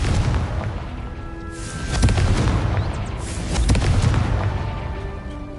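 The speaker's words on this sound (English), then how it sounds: "Confringo!" A Confringo fire spell in Hogwarts Legacy erupts as a loud, sustained booming blast, deep rumbling swells rolling on for several seconds with no voices over it.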